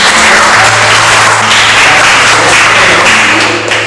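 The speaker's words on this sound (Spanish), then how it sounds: "Le brindamos un aplauso." An audience applauds, a loud, dense wash of many hands clapping that carries on steadily without a pause and without voices.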